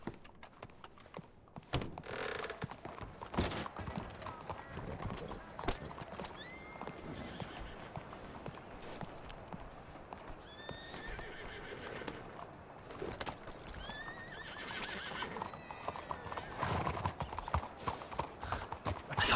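Horse hooves clip-clopping in the western roleplay game WildRP, with repeated neighs and whinnies over uneven hoofbeats and a few faint background voices.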